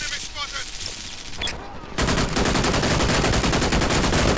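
Gunfire in the shooter game Brink, a dense continuous burst of rapid shots that erupts loudly after a short lull and keeps going to the end.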